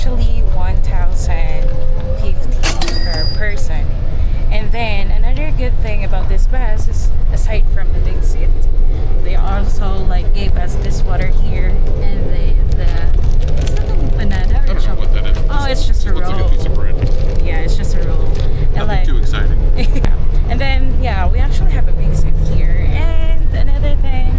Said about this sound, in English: we're currently riding a choy bus, or the so-called Genesis bus